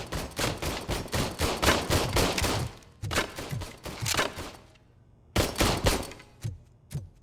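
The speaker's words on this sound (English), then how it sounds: "Robocop just shot everything." Rapid bursts of gunfire from the video game Robocop: Rogue City, a dense volley of overlapping shots for about three seconds, a short pause, then more bursts and scattered single shots, loud and close with no talking.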